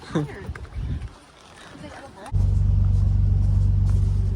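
Car engine idling through the muffler of a drift-setup Lexus IS300, a steady low rumble starting abruptly partway in and holding loud and close, after a stretch of voices talking over quieter background noise.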